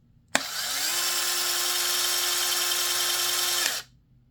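Fanttik C10 Pro cordless electric scissors running in Max mode: one loud, close, steady high-pitched motor whine that starts abruptly, holds constant for about three seconds and then cuts off sharply.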